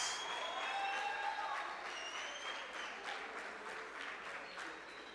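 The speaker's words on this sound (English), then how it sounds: "Let's give all our schools a round of applause." Audience at a school robotics challenge applauding the participating schools, steady dense clapping from a moderately distant crowd sustained throughout, with faint voices mixed in.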